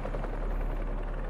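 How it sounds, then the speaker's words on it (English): Helicopter blades thump in Spider-Man 2, a low, rapid pulsing rotor chop that stays steady and loud throughout. "a helicopter's blades"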